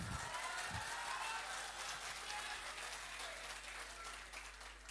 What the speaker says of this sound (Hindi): अब बजानी थी तालियां।